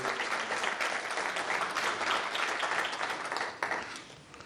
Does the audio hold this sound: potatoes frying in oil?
no